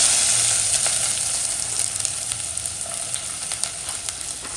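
Onions fry in hot oil for a mutton biryani, giving a continuous close sizzle that starts loud and settles slightly softer, with small crackling pops throughout and no speech.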